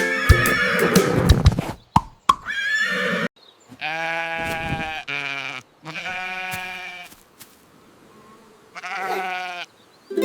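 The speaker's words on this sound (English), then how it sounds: "the horse goes, neigh" A horse neighs in several long, tonal whinnies separated by short silences, loud and close, following a brief burst of other noise at the start.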